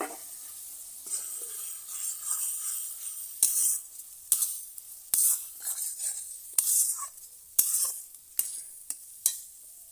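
Gravy with green chilli and coriander paste being stirred and fried in a pan, with a steady bright sizzle broken by sharp scraping strokes of the spoon at irregular intervals, close and fairly loud, no talking.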